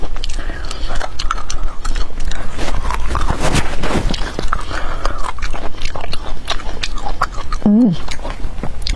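Loud, close crunching bites and chewing of a mildly spicy food, wet and crisp, continuing under steady talking.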